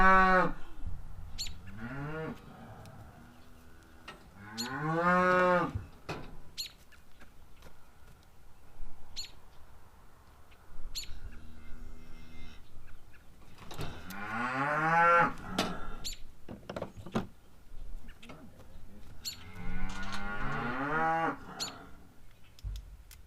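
Cows being loaded into a trailer let out several long, drawn-out moos spread across the stretch, some near and loud, with faint knocks and bird chirps between the calls.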